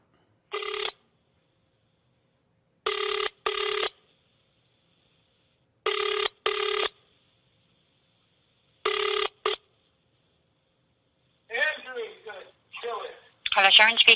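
Ringback tone of an outgoing telephone call to South Africa: four evenly spaced double rings with silence between them, loud and close. A voice then answers over the line at the end.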